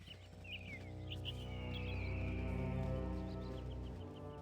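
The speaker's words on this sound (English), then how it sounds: "Man, listen to these beautiful birds and trees." Birds chirp in scattered short calls and one longer whistle over a steady low ambient hum in the outdoor forest scene of the Baldur's Gate Enhanced Edition game, faint and without talk.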